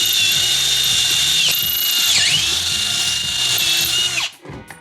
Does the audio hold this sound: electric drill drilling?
yes